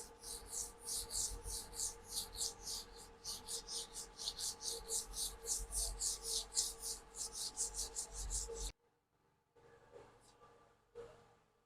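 Rapid rhythmic rasping of sandpaper scrubbed back and forth by hand over a car body panel being prepped for filler, for several seconds, then stopping abruptly, followed by a few quiet scrapes.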